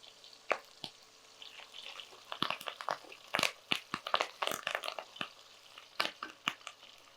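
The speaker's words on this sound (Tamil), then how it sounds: "பொரியுது பாருங்கள் இந்த வெங்காயம்" Onions fry in oil with curry leaves in a pan, giving soft crackles and scattered sharp pops over a quiet hiss. The sizzle is sparse and close, rising and falling in small bursts.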